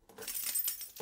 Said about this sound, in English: It is car keys